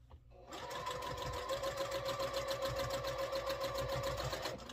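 A sewing machine stitches quilt fabric at close range, its needle clattering in a fast, even rhythm for several seconds after a brief start-up.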